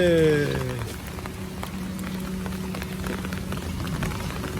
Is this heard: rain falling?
yes